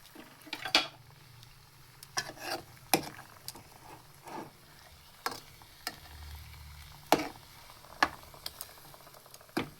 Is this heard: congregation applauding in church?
no